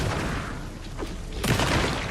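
A flare fired in a video game gives a dull booming pop, followed by a brighter, sharper burst and a hissing tail, all heard alone without talk.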